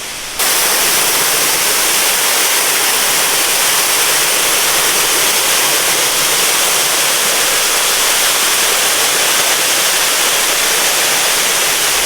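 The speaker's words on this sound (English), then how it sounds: "that is the Manoa waterfall right there" Manoa waterfall on Oahu roars at its base, running strong after recent rain, a loud, steady wash of falling water and stream rush heard up close with no pauses.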